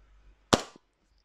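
A single sharp shot from a 1911 CO2 airsoft pistol firing 0.20 g BBs, close and loud with a short decaying tail, standing alone in a quiet room.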